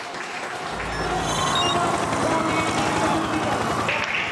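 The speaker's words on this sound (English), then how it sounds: "The crowd are on their feet." A large crowd cheering and applauding at the Jakarta Formula E race, a dense, steady roar of noise holding for several seconds with race cars faintly audible underneath.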